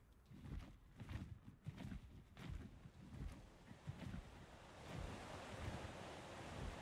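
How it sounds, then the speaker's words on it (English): A waterfall in the ARK: Extinction video game gives a faint, continuous rushing wash of water, with soft thumping sounds over the first half and the rush filling in more evenly toward the end. "No, we've just got a waterfall here."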